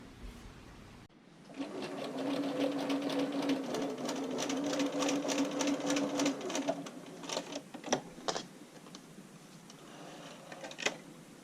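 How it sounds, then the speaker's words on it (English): A sewing machine running a quarter-inch straight stitch along a bra seam: a steady close mechanical whir with rapid needle ticking for several seconds, then slowing into scattered clicks and taps, no talking. "just stitch this with 1/4 inch straight stitch"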